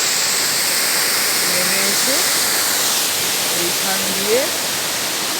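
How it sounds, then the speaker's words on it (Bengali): Rani Duduma waterfall in the hills of Odisha, a steady broadband roar of falling water heard from a distance, continuous throughout with a person speaking over it. "ওইখানে একটি প্রপাত পড়েছে।"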